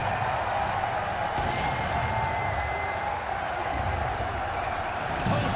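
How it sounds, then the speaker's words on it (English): A packed arena crowd at the BLAST.tv Austin CS2 Major grand final between The MongolZ and Vitality roars and applauds in a dense, continuous wash of cheering, distant and sustained throughout. "This crowd's going crazy. Oh yeah, dude, they're all on their fucking feet, bro."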